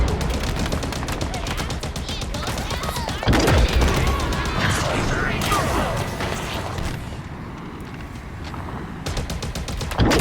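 Gunfire in the video game Halo Infinite, dense bursts of rapid automatic shots and heavier booms rattling almost without pause, loud and close, with game effects mixed in.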